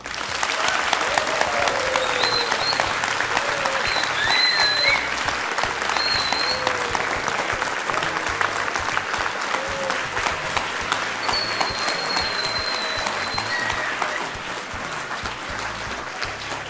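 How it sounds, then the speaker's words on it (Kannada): A studio audience at a televised courtroom-style talk show breaks into dense, sustained applause as a union minister is welcomed. The clapping stays loud and even for over sixteen seconds, with a few whistles rising above it. "ಈ ಚಪ್ಪಾಳೆ ಹೀಗೆ ಮುಂದುವರಿತಾ ಇರಲಿ"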